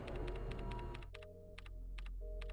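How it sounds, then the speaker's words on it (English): Computer keyboard typing from a character in the Dino Crisis video game, quick bursts of key clicks separated by short pauses over a low ambient hum, no voices. "You can hear him in here typing away"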